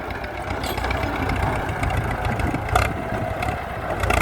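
A tractor's engine idles nearby while the machine waits at a job pushing earth to build a farm access track, a steady, loud low rumble with a faint clank partway through.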